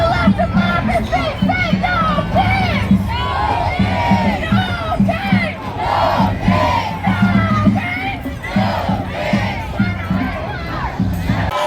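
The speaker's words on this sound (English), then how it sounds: "We got a good crowd out here." A large crowd at the No Kings 3 protest in Atlanta, Georgia, fills the street with steady, loud shouting, chanting and cheering, dense overlapping voices rising in waves throughout.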